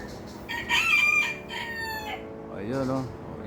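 Gamefowl roosters crow one after another, a loud close crow followed by a second, shorter crow, with faint background noise and no clear talking.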